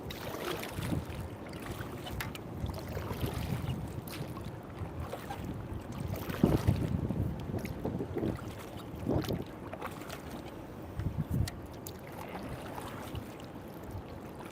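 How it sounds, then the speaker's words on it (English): A kayak paddled against a river current while fishing with a live skipjack bait rig, giving soft, irregular paddle strokes and water swishes amid steady wind noise and gentle flowing water. "Good workout sitting here paddling the current."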